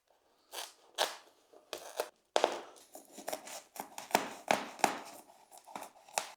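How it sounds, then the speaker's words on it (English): Scissors snip through an automotive insulation roll for a garage door, a series of close, crisp cuts and crinkly crunches at an uneven pace, with short pauses between strokes and no talking. "I'm going to cut the insulation to size using a pair of scissors."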